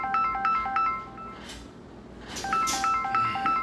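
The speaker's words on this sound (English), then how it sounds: "I thought I had my notifications turned off." A smartphone notification chime rings out as a repeating pattern of bright electronic tones, fairly loud and close, plays twice with a short gap and some background rustle in a home exercise setting.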